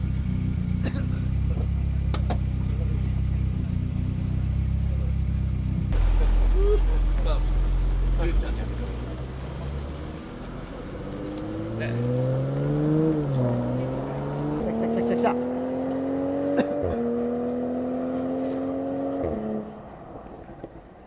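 A race car's engine on a circuit rises from a low rumble to a climbing, revving whine as it approaches and passes, with the pitch sweeping up and shifting through gears while people talk excitedly over it.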